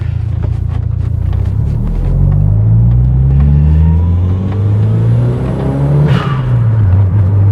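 A Toyota MR2 accelerates hard through the gears, engine pitch climbing steadily, dropping briefly at a shift, then rising again; loud, close in-cabin engine and road noise with no talking.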